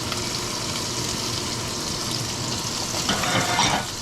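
Beef, onions and bell peppers sizzle steadily in a stir-fry pan, a continuous close frying hiss that swells with a burst of spattering near the end, with no talking.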